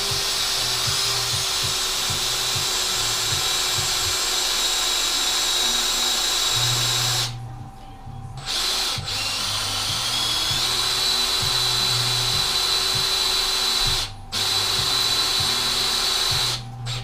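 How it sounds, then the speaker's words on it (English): A power drill boring a hole on a Bridgeport milling machine gives a steady, high, close-up whine over a low mechanical hum. The drilling pauses briefly twice before resuming. "And let's drill this one."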